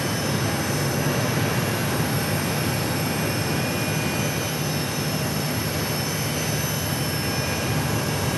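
Airliner landing at Phoenix Sky Harbor airport, a loud, steady jet roar with a broad rushing hiss that holds constant throughout.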